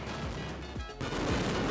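Firecrackers burst in a dense, rapid barrage at the daily mascletà of Las Fallas festival in Valencia, a continuous crackling roar with sharp overlapping bangs, heard at a distance and fairly muffled.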